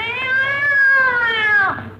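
A cat lets out one loud, drawn-out yowl of about two seconds that rises slightly, then bends and breaks off at the end, heard up close in an old haunted-house comedy scene after its tail is stepped on.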